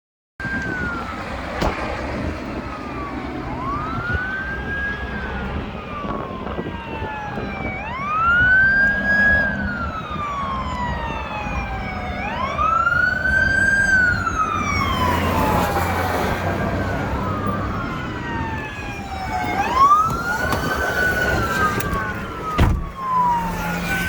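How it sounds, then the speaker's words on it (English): Emergency vehicle sirens wail in repeated rising and falling sweeps during a police helicopter pursuit, growing louder as they approach over traffic noise, with several overlapping sirens near the end. "I can hear the sirens are getting a little closer now."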